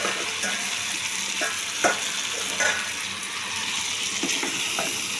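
Mushrooms fry in hot oil with spices for a mushroom curry, a steady close-up sizzle broken by a few sharp clicks and scrapes of stirring, with no talking.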